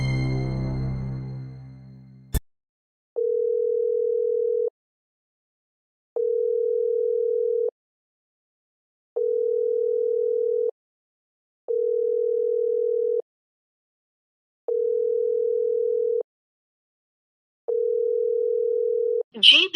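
Ringback tone of a phone call going unanswered: after a short burst of voice and a click, a steady electronic tone repeats six times in long even beeps separated by silent gaps, clear and alone.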